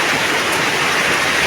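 Heavy rain pours down in Nnewi, Anambra State, during the rainy season, a dense, loud, unbroken hiss with no gaps and no voices.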